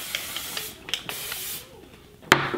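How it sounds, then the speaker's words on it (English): Hairspray from an aerosol can hisses onto a wig in a long, steady spray, broken by brief clicks and a few short bursts, ending with a sharp tap. "take some of that hairspray."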